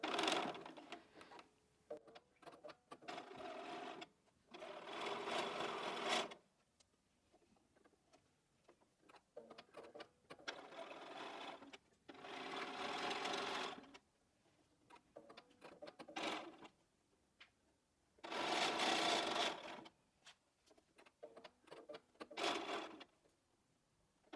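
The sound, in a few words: sewing machine stitching quilt fabric pieces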